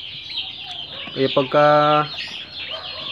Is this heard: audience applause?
no